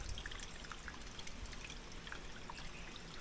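Spring water from a natural spring pours and trickles steadily, a continuous close splashing flow with small drips, heard alone without talk.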